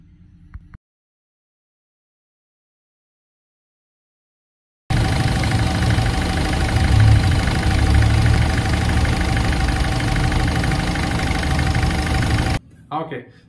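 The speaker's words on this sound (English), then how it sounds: "Now let's start the car and see." A Ford Fiesta 1.4 TDCi diesel engine turns over and settles into a steady, loud idle with a continuous low rumble, preceded by a few seconds of silence.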